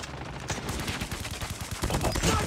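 Rapid bursts of gunfire from the mobile shooter Call of Duty: Mobile, dense overlapping shots and automatic volleys in quick succession, loud and close throughout, with a heavier burst of fire toward the end.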